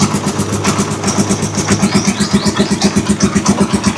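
A Rusi Chariot 175 motorcycle engine idles smoothly and steadily at close range, a regular pulsing putter that holds alone without any talk.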